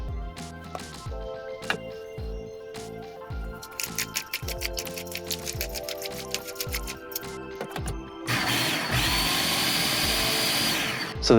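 A food processor pulses a black bean and beet burger mix with salt and pepper, short repeated motor bursts in an irregular rhythm, then one longer continuous whir at the end.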